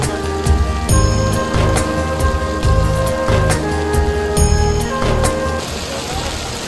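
Heavy rain falls during a road trip through Maharashtra, heard from inside a vehicle as a constant wash of drops with a repeating rhythmic thump running through it.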